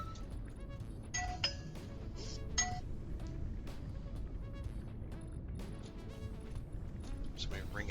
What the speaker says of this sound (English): Somebody ringing my doorbell.